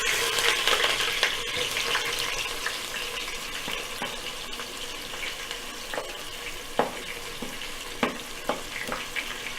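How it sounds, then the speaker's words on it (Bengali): Onions hit hot oil in a pan for a spicy pasta and fry with a dense, continuous bright sizzle, broken by a few crisp pops and clicks as pieces are added and the pan is touched. "আর এখানের মধ্যে তেল গরম হয়ে আছে অলরেডি। তো যেটা করব সেটা হচ্ছে যে আমরা সর্বপ্রথম পেঁয়াজটা দিয়ে দিচ্ছি এক একে করে।"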